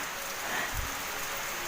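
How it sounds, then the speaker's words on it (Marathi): Light drizzling rain falls steadily outdoors, a soft continuous hiss of drops on surfaces with a brief low rumble in the middle, heard alone without talk. "इतका असा छान असा पाऊस पडतोय रिमझिम"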